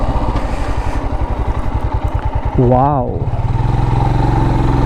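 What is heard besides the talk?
Himalayan Scram 411 motorcycle engine while riding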